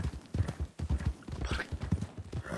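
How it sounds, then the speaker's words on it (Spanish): Horse hooves clop in a Red Dead Redemption 2 roleplay game, a steady rapid trotting rhythm of close, dull thuds with no voices over it. "El caballo que se pone loco."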